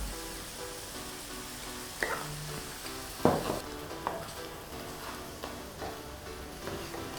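Calamari dropped into a hot pot for seafood soup, a soft continuous sizzle with sharper crackling bursts and stirring knocks as the pieces hit the oil, no talking.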